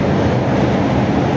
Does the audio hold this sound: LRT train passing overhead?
yes